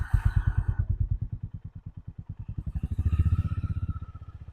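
A motorcycle rides along the Kottayam–Kumily road with a close, loud engine putting out a steady, rapid low thump that swells slightly toward the end, and wind noise shows faintly at the start.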